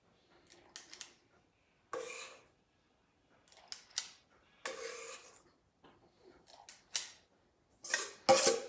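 Oatmeal bake batter with peanut butter being scooped into mini loaf pans: a series of short, close scraping and rubbing scoops in irregular bursts with quiet gaps between them.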